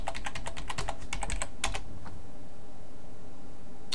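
Rapid clicking keystrokes on a computer keyboard as a terminal command is entered under Ubuntu, a quick burst of close taps for about two seconds, then quiet.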